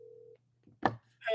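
A flip phone places a call, giving a faint tone, then a short quiet gap, a brief burst of sound and the start of another tone.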